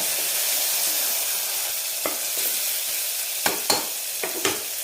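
Spices sauté in hot oil in a pan, a steady close sizzling hiss broken near the end by a few crisp stirring knocks and scrapes.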